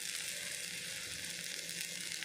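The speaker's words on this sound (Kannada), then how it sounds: "ಗೋಧಿ ದೋಸೆ ಫ್ರೈ ಆತಂಡು ತುಲೆ" A wheat flour dosa fries in a pan with a steady, faint, even sizzle that holds without a break, and no other sound stands out.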